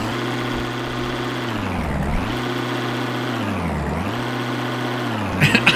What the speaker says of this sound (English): Is it staying revved?